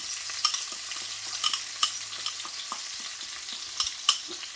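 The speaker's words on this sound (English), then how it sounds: "So I'm going to go straight in with my vegetable peppers, my tomato. Then in with my crushed garlic, spring onion and thyme." Peppers, tomato, crushed garlic, spring onion and thyme fry in a hot pan with a constant soft sizzle, punctuated by repeated clicks and scrapes of a utensil stirring them, close and without speech.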